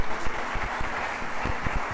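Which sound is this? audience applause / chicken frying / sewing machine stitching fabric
audience applause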